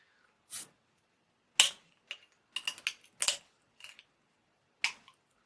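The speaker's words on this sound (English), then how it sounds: "Let's get the bottle open." An alcohol-free London porter bottle is opened, producing a series of sharp clicks and metallic snaps from the cap, several brief close ticks spread over a few seconds in a quiet room.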